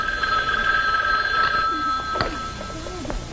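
An old landline telephone bell rings with a steady metallic trill during a family dinner scene, loud and sustained, with a few brief clinks and faint voices underneath.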